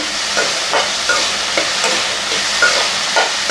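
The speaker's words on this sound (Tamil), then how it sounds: "இப்போ வெங்காயம் தக்காளி நல்லா வதங்கிடுச்சு" Onion and tomato sautéing in a pan for black gram chutney, a steady loud sizzle with soft periodic scrapes of stirring, close up and with no talk.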